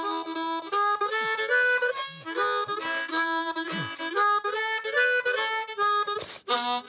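A harmonica plays bright, wailing bursts of notes in rhythmic phrases, loud and close, with short breaths between them.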